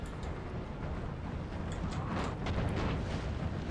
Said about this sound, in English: And it's only artillery they're shooting at as well.